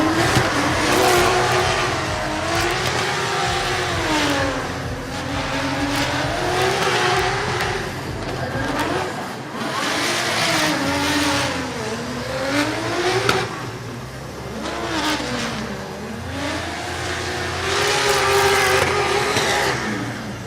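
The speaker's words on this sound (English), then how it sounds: "Here comes the second run now for USA entrant Michael Esser in the BMW" A BMW drift car at an FIA Intercontinental Drifting Cup qualifying run, its engine screaming through rising and falling revs while tires squeal continuously, loud and close, with a constant crowd-and-track roar beneath.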